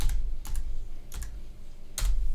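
Clicky typing on a computer keyboard while entering PLC instructions, three quick bursts of keystrokes then a fourth, close and distinct over a low background hum.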